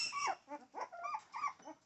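A young puppy, under a year old, whimpers and growls in a rapid series of short, high, whiny yelps and low grumbles, close and fairly quiet with no talking.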